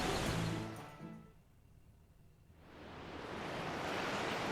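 Link diving into soapy-looking water at Lake Floria in Zelda: Skyward Sword HD: a rushing splash, then a muffled underwater lull before bubbly watery ambience swells back.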